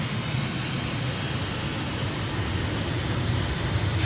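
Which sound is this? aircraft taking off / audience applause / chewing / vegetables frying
aircraft taking off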